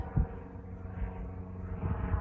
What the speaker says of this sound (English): that little aeroplane go overhead